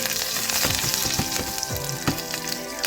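Cumin seeds, curry leaves and hing sizzling in hot oil, a bright crackling hiss with scattered pops and spits and a few quick utensil clicks, fairly loud and close.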